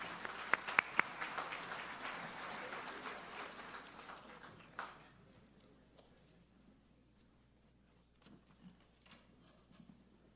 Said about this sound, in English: give another round of applause to our panel